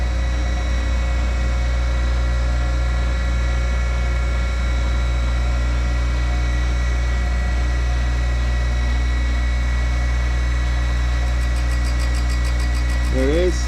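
A surface grinder wheel spins steadily, a loud constant mechanical hum with fixed tones, while the spindle is fed slowly down toward a cylindrical workpiece until the wheel lightly touches it near the end.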